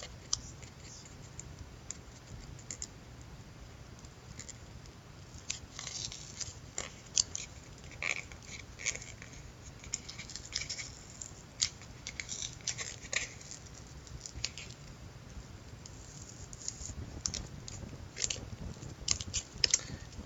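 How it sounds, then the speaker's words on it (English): A 2016 baseball rip card being torn open by hand, with a steady run of close, crisp tearing and crinkling of card stock and paper over a soft background hiss. "Try to rip the same side."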